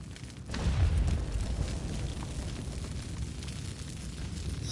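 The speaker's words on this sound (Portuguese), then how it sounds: "vou explodir outra bomba aí" A bomb detonating in a raid video game, a deep low boom that swells suddenly then lingers as a rumbling roar, moderately loud with no talk over it.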